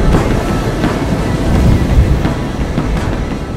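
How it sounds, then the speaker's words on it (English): Strong gale wind roaring over a heavy sea, with waves surging and washing in a steady, loud, unbroken rush that swells slightly midway. "A gale howled over the seas, waves swelled before a stranger ship."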